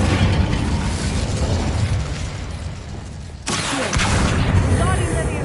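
Fire spell cast in the Hogwarts Legacy video game, a loud roaring, crackling burst of magical flame with a sharp whooshing onset midway, set against steady rumbling game ambience.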